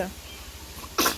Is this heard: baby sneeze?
yes